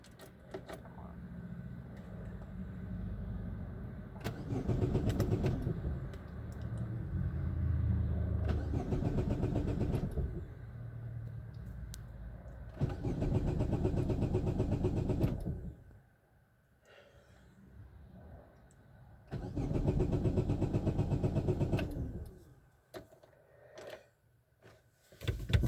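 A 2010 Chevrolet Aveo engine being cranked in neutral with the brakes set: several long bursts of loud starter churning, each lasting a few seconds, separated by short pauses, up close with no talk.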